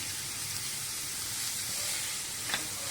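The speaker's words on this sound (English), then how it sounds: "Frying onions." Continuous close-up sizzling of onions frying in a hot pan, a steady crackling hiss with a brief utensil clink near the end.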